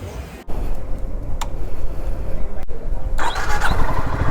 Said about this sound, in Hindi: फटाफट से बाइक स्टार्ट करते हैं और निकलते हैं।